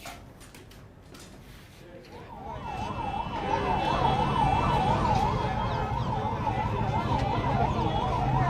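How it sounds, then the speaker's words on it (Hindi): Ambulance siren wailing in a steady up-and-down warble as it arrives at a student protest outside a college in Kota, growing louder and closer over crowd noise and traffic rumble. "क्योंकि एम्बुलेंस पहुंच चुकी है?"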